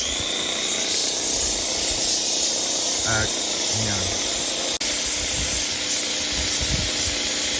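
A paint sprayer hisses steadily while coating a portable chicken coop outdoors, a loud continuous rush that runs throughout, with a brief voice speaking over it.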